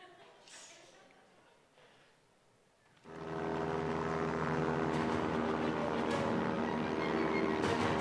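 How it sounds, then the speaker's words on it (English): A light airplane at altitude is heard from inside the cabin, with muffled sounds first and then a loud, steady propeller engine drone taking over. "Jumped out of my first airplane."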